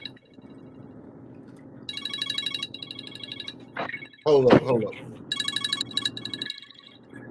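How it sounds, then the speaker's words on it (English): A mobile phone's ringtone keeps ringing in bright, repeating electronic bursts, while people talk briefly over it and a louder burst of noise cuts in midway. "that's one of the worst ringtones I've never had"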